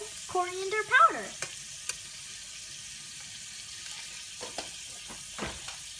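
Shrimp fry in a pan for a spring mix and shrimp curry, a faint low sizzle with a few sharp stirring clicks and a brief watery burble near the start, with no voices.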